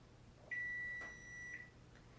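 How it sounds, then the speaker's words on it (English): A single sustained electronic kitchen timer beep lasting about a second, clear and fairly loud against a quiet background, followed by a faint short blip. "there's my timer"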